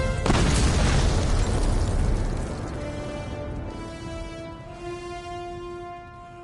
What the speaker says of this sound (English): Charge and explode.